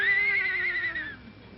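A horse whinnies as a radio sound effect, a loud, high neighing call that wavers and then trails off, alone with no talk.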